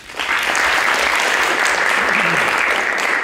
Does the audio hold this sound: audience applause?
yes